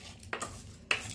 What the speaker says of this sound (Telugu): మళ్ళీ ఇక ఇదంతా బాగా కలిపేసుకోవాలండి,